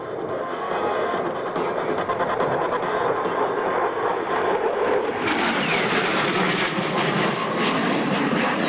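A CF-18 Hornet fighter jet flies a demonstration at the 1999 Red Deer Airshow, with a loud, sustained roar of jet engine noise throughout and a brighter surge in the engine sound partway through.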